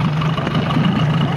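A zodiac boat's outboard motor runs close by, a loud, steady low hum with a constant drone and no voices.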